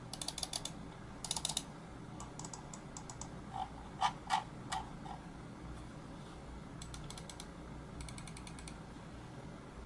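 Clicks from the buttons of a Logitech G102/G203 gaming mouse, a scattering of sharp, close, fairly loud taps in small bursts that are spread unevenly over a low, steady background hiss.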